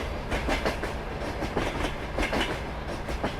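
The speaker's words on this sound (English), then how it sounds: "That train scared the life out of me." Train rolling past in Farming Simulator 22, a steady rumbling clickety-clack of wheels over rail joints, loud and close, continuing throughout with no talk.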